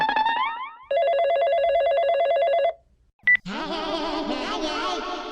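A phone rings repeatedly: one shrill trilling burst, then a steady pulsing electronic ring, a short pause and a brief beep, then another ring starts up. Every ring is loud and close.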